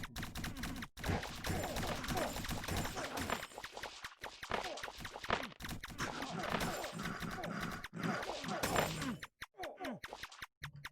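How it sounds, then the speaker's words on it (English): Continuous automatic shooting in the game Realm of the Mad God, a dense stream of rapid, scratchy shot sounds that runs for most of the stretch with brief gaps and tapers off near the end. "Turning on auto fire because I don't want to think about firing. Just shoot forever."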